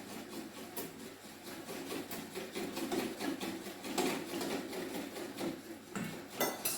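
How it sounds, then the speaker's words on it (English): A whisk beats lemon juice into a mixture in a bowl, quick rhythmic tapping and swishing that runs steadily, fairly soft and close. "then we'll whisk that in"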